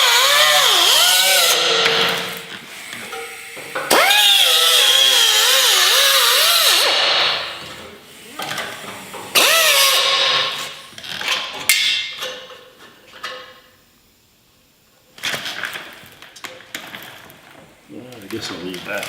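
A power tool cuts a metal body panel during a 1959 VW Beetle restoration, a loud whining grind with pitch sweeps in long bursts, stopping and restarting, with some quieter workshop handling between.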